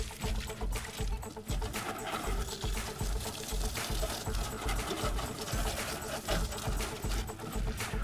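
Self-service car wash pressure sprayer blasting plain water onto the underside of a passenger car, a continuous loud hissing roar with spatter, no talk over it.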